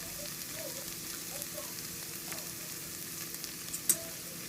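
Chopped onion and turmeric powder fry in oil for a banana flower poriyal, giving a faint, steady sizzle with light crackles and one brief clink near the end, no voices.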